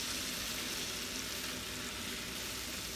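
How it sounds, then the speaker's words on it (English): Kale tossed into leftover bacon grease in a pan, sizzling and frying in a continuous, even crackle at moderate, close volume. "there is a little bit of bacon grease left, and I'm just gonna use that to kind of cook up the kale"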